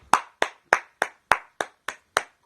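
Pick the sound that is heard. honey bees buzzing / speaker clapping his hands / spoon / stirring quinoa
speaker clapping his hands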